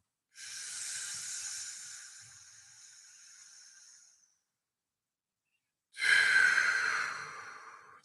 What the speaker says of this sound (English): just breathing into the stomach.